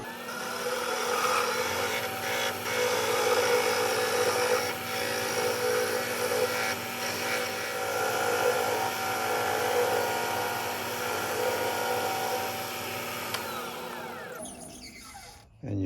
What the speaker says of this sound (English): I can go ahead with this skew and take this down a little more.